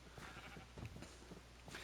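Sheep in the Minecraft video game bleat faintly, with short, quiet calls scattered over low background sound.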